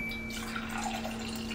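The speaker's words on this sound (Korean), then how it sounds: "물소리." Water running and dripping from a household water purifier, a steady close-up wash of liquid over a low constant hum, with no voices.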